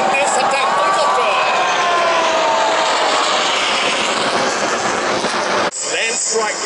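An Apache attack helicopter flies at the Singapore Airshow 2016. It makes a loud, broad roar with tones sweeping in pitch as it passes, then the sound shifts abruptly near the end.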